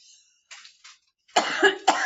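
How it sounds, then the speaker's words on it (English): Two sharp, loud coughs from one person close by, each a harsh burst, following a few fainter breathy throat sounds and short pauses, with no speech. "Haven't coughed all day. Why do I always cough when I'm"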